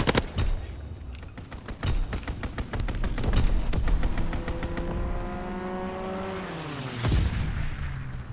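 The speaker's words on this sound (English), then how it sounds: "Strafing run inbound." Strafing run in the Call of Duty WWII video game: rapid rhythmic gunfire hammers close by for several seconds. A rising and falling aircraft engine drone sweeps past, and a heavy impact thumps near the end.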